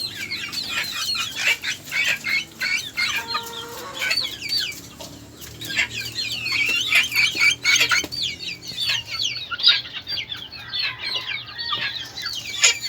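Small backyard flock of young chickens being raised in a tiny coop, clucking and crowing busily throughout, close and lively with bursts of wing flapping and no talk.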